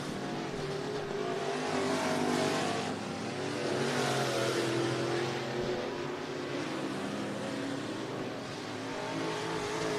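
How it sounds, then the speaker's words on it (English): IMCA Northern Sport Mod race cars run hot laps at Cottage Grove Speedway, Oregon, engines roaring and revving continuously with rising and falling pitch as cars pass, loud and sustained with no talk. "we'll get hot laps underway for the Carl Chevrolet IMCA Northern Sport Mods"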